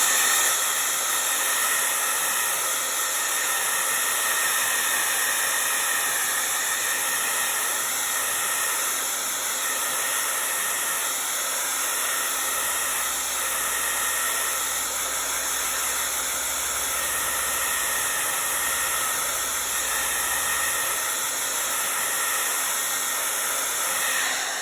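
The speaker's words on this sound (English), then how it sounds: "I'm just going to blow it dry just to speed it up." A hair dryer blows steadily to speed-dry watercolor paint on paper, a constant close airy hiss that runs unbroken for the whole stretch with no talking.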